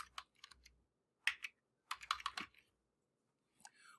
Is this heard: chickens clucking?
no